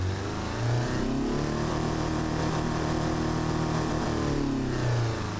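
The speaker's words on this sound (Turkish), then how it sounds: "Sesi de güzel motorun." Restored 1946 classic car engine running steadily at close range, a low droning hum with brief swells as the revs rise slightly near the start and end, no talking.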